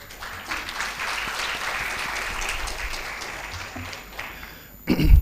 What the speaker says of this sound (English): Please once again give him a big applause.